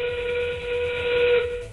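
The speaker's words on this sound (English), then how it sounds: "That whistle means we're in the end game." A steady, sustained whistle sounds at a robotics competition to signal the end game of a match, a continuous tone over a loud arena background with no talking.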